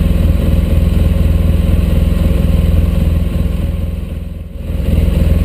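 A motorcycle engine fitted with a Dobeck EFI controller idles steadily up close, its fuel mixture leaned at idle, with an even, rapid thumping pulse and a brief dip in level near the end.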